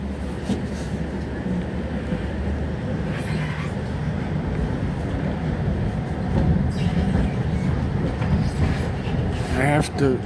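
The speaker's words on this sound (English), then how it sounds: "Every time I'm on one of these vehicles" Continuous rumble of a train in motion, steady wheel noise with faint rattles and clicks, heard from inside the carriage.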